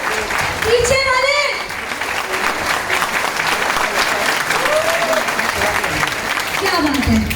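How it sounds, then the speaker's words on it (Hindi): Audience applause at a direct-selling business seminar, a loud, dense clapping that fills the whole stretch alongside whoops and cheers, with a host's voice talking over it. "जबरदस्त ताली जोरदार।"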